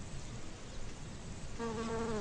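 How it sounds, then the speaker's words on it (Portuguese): Bees buzzing steadily as they fly among flowers, carrying pollen, a continuous close insect drone that grows into a stronger, more tonal hum near the end. "explorar o hábito das abelhas de carregar o pólen nas patas enquanto voam de flor em flor"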